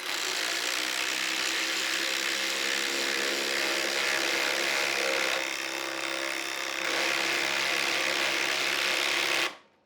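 A DeWalt drill on a Powerstack battery bores a pilot hole, a loud steady motor whine that holds for nearly ten seconds with a slight dip partway, then cuts off abruptly.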